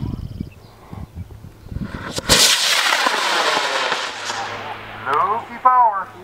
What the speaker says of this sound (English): We're going to launch in 5, 4, 3, 2, 1, launch.